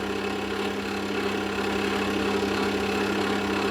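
Wood lathe spinning a pen blank at 2000 RPM, a steady close mechanical hum with a constant tonal whine and faint rattle, unbroken throughout.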